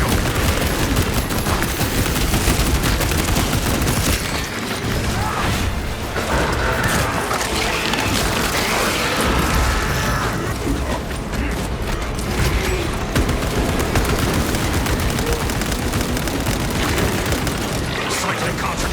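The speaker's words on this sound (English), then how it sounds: "Let the servo gun do its job." Sustained servo gun fire in a Warhammer 40K Space Marine game, a relentless rapid stream of booming mechanical shots layered over battle noise and explosions, loud and continuous, with a voice speaking through it.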